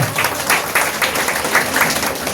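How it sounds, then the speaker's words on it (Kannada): A burst of applause from a crowd at an event honouring sanitation workers in Bengaluru, many hands clapping steadily and loudly throughout, with no talking. "ಇವ್ರೊಂದು ಜೋರಾಗಿ ಚಪ್ಪಾಳೆ"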